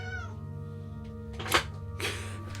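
A cat meows several times, wanting to be let outside: a drawn-out tonal meow at the start, then shorter sharp cries, heard close in a quiet room over a low background hum.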